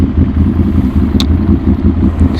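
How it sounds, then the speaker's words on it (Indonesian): A deep, bassy Ducati Monster 796 L-twin motorcycle exhaust rumbling steadily at idle, close up, with a brief higher click partway through. "Suara knalpot SC nya ini mantep banget bro. Suaranya ada bass-bassnya gitu"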